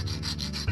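A sanding block rubs against a stone in a point-and-click adventure game, giving short, rhythmic scraping strokes that repeat a few times at a quiet, close level.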